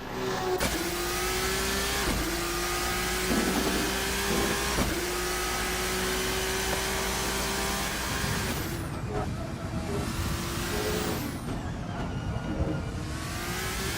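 Race cars lap Suzuka in a racing video game, with loud, close engine whines rising and shifting as cars pass and change gear. Several distinct pass-bys come through, some rapid, over a constant background roar.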